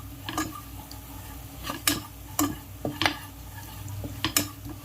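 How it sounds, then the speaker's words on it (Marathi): Spoon scraping and clinking against a pan while masala with turmeric is stirred and roasted for a Malvani shark fish curry, a run of irregular close metallic knocks over a soft background hiss, no talking. "आता हे सारखं चांगलं ढवळून भाजून घेऊया."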